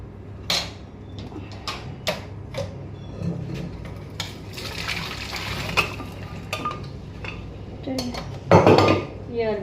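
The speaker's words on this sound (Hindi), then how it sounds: "और ये कुकर को भी धो दूँगी हाथ के हाथ।" Pots and metal utensils clatter at a kitchen sink as a pressure cooker is washed by hand, with running water and repeated near clanks, louder scraping near the end.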